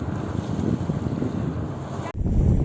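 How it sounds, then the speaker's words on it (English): Wind gusting into a microphone at a beach beside a refinery, a steady loud low rumble with buffeting that cuts out abruptly near the end before resuming. "We've got wind even here, so I don't know if they're going to hear us."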